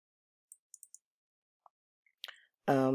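A few sharp computer mouse clicks, sparse and close, spaced through a quiet moment as a graphic template is edited, before a voice begins talking at the end.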